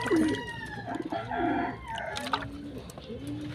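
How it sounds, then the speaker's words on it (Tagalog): Pigeons coo in a loose series of throaty, rolling calls close by, with a rooster-like crow mixed in among the birds and no talking. "Yan mga kalapatids."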